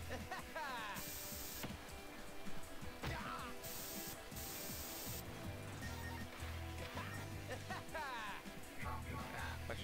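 Spray-paint hisses from graffiti tagging in the Jet Set Radio video game, several bright bursts repeating over steady game music and effects, loud and close.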